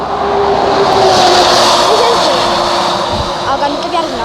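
A truck drives past outdoors, loud and close. Its engine roar swells and then eases over a few seconds.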